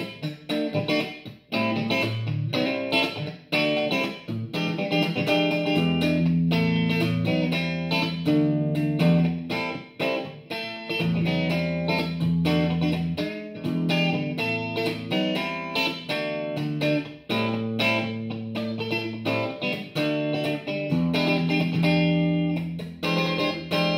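A Cort KX Custom electric guitar in coil-split mode with both pickups together, strummed in steady funky rhythm chords for over twenty seconds, loud and alone with no talking.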